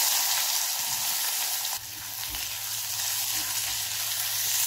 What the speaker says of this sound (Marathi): यामध्ये कांदा बघा छान परतून घेतलाय मी